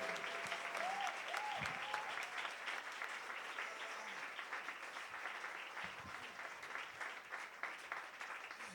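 An audience applauds at a live music evening at a voice academy, with sustained, even clapping throughout and voices mixed in underneath.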